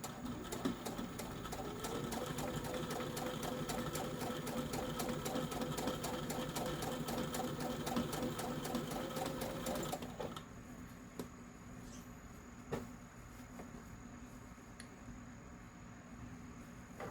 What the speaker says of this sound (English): we are going to sew our stitch